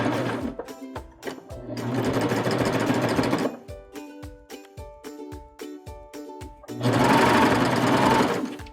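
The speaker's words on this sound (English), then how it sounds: "And now we just sew." Serger sewing machine stitching fabric piping with a cord set in its groove, running in three fast whirring bursts separated by short bouts of slower, individual mechanical stitch thumps; close and clear, no voices.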